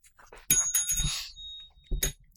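A bell rung as a signal, sounding as a short bright ding at about half a second and again near two seconds, with faint talk around it.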